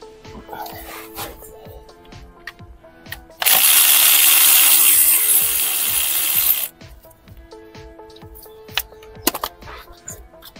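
A power tool whirs for about three seconds, undoing an 8 mm bolt on a Ford Transit Connect during a cambelt job. Ratchety clicks and handling knocks come before and after it in a workshop.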